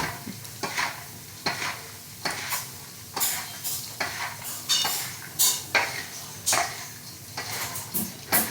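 A spoon stirs and tosses nylon poha chivda in a pot, giving a steady run of close scraping, rattling strokes at a quick, even rhythm with no voices.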